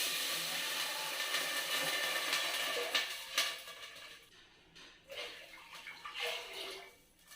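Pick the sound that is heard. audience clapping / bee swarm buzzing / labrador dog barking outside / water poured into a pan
water poured into a pan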